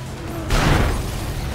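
A car crashes in the racing game Need for Speed World: a sudden loud, dull impact with a noisy burst that swells and then holds as a rough roar.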